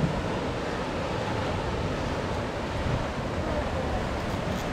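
Ocean waves break near a Bermuda scuba dive site at sunset, a steady, loud broadband wash of surf mixed with wind buffeting the microphone throughout.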